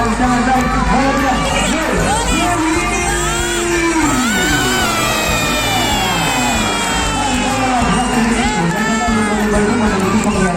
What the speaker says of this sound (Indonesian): Kak Andi, boleh semua penonton kasih tepuk tangan lagi